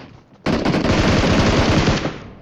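Sustained automatic gunfire in the shooter game PUBG Mobile, a loud rapid burst that starts abruptly and runs for about two seconds before cutting off.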